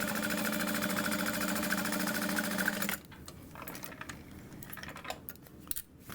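A sewing machine stitches a 3/8 inch seam on a fabric wristlet, running loud and steady with a fast even rhythm for about three seconds, then stopping and leaving quiet handling noises.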